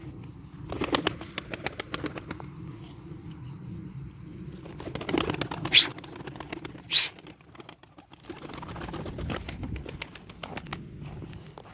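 Turkish tumbler pigeons in an outdoor loft flock, with bursts of wing flapping and scattered soft coos and calls over quiet background noise, louder flurries arriving in the middle of the stretch.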